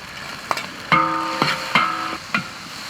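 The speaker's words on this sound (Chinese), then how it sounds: "先把这个炒香一点" Aromatics stir-fried in a wok with dried Sichuan peppercorns: garlic, onion, ginger, scallion and cilantro sizzle over steady hiss, with several sharp spatula scrapes and clanks against the metal at irregular intervals.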